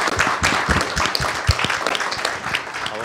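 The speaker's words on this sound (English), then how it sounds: "I want to give a round of applause to our speakers" Steady, dense applause from a panel discussion audience clapping for the speakers, loud and continuous throughout with no gaps.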